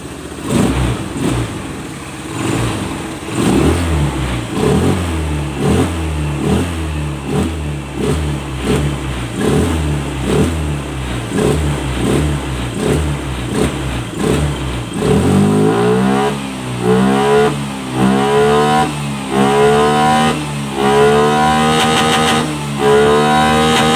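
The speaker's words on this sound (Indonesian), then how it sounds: "Digas mesinnya tuh baru nanti naiknya, digas lama mesinnya ngangkat ya" A Honda Scoopy FI scooter engine revs repeatedly in short rising bursts, then winds up into a longer sustained high rev after tuning for a delayed throttle response, loud and close with no talking.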